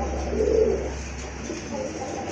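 A pair of orange pigeons coo close by, one soft low throaty coo rising out of steady background noise, with quieter cooing following.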